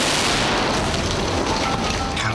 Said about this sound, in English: The potting of the last 6 balls causes an explosion as each pocket is wired to a gas-filled caravan.